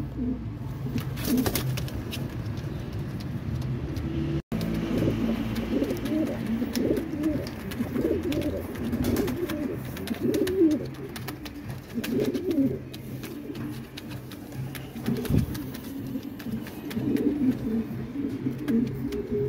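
Several pigeons in a bird collection keep up a dense, continuous chorus of low rolling coos, close and steady throughout, with a faint voice now and then.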